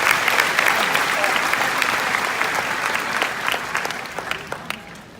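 Loud, thick applause from a large reunion audience for seven volunteers at a live show, gradually thinning toward the end into scattered individual claps.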